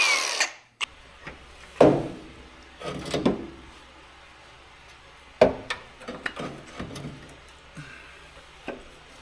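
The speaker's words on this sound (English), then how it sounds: "I ended up having to grind and drill 2 holes on that too" A power drill boring two holes into a front engine mount for a Quad 4 Beretta Z26, heard as short, sharp bursts and clatter at close range with quiet pauses in between.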